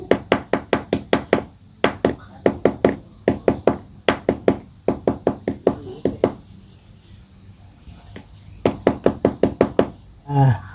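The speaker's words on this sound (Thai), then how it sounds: "เคาะให้มันสมดุลกันนะครับ" Repeated metal tapping on the bent, warped rim of an Imarflex 18-inch electric fan being knocked back into balance, sharp close knocks in quick bursts of six to eight separated by short pauses.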